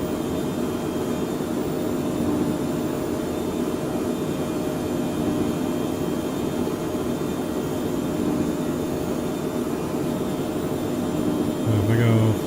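A Phenom 100 jet in Microsoft Flight Simulator drones steadily throughout, a dense continuous engine and cabin roar with a faint whine layered on top, unbroken and even in level.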